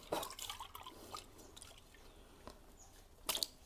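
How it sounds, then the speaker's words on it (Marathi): Clean water rinses the inside of a copper pot, making close splashes and drips with a few sharper sloshes and soft metallic knocks, quiet apart from a louder splash near the end. "आपल्याला आतून पण तांब्या धुवून घ्यायचा आहे स्वच्छ पाण्याने"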